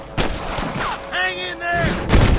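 Gunfire in Red Dead Redemption crackles in a few sharp shots mixed with game voices shouting, the blasts loud and close over a busy background.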